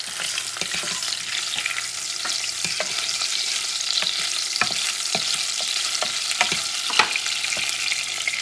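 Ham frying in a pot as the base of a Puerto Rican white bean stew, a steady close sizzle broken by frequent clicking stirs and scrapes of a utensil, with no talking.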